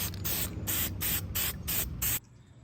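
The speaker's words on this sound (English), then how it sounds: "So now I'm gonna give this a spray." A spray can gives six short, even bursts in quick succession, each a loud close hiss, then silence.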